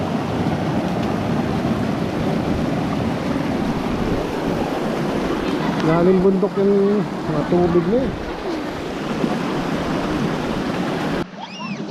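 A mountain stream flows with a steady broad rush close by, where people go swimming, and people talk briefly over the running water.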